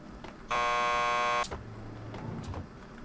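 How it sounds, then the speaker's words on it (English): A door buzzer at a police station lockup in Max Payne 2 sounds once, a loud steady electronic buzz of about a second, followed by quiet room tone. "Just press the buzzer by the door."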